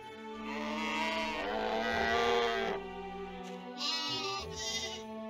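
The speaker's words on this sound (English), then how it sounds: "I mean, look at those sheep." Sheep bleat in the farming game My Time at Portia: two or three drawn-out, wavering bleats in close succession, clear and fairly loud against a soft sustained background tone, with no talking.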